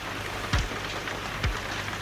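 Heavy, steady rain pours down outdoors as a continuous broadband hiss, with two brief low rumbles or thumps breaking through the downpour.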